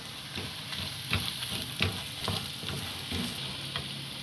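Curry leaves and a single garlic clove frying in oil for a spicy prawn masala (prawn thokku), with a steady close sizzle and the occasional clatter of stirring.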